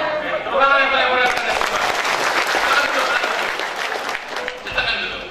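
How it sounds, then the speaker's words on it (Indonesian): An audience bursts into loud, sustained applause that swells and carries on for several seconds, with voices heard over the clapping. "Tepuk tangan yang paling meriah."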